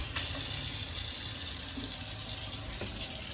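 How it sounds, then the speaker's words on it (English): Water runs steadily from a tap into a caravan sink, a constant close hiss and splash with a faint low hum of a SEAFLO quiet water pump beneath it. "Just as a demonstration, I'll put the tap on."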